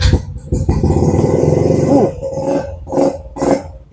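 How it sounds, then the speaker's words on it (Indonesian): A used motorcycle engine at a dealer's lot is revved lightly, a sustained nearby drone rising and easing, followed by a few short, sharp throttle blips. "Kita geber tipis-tipis bosku ya."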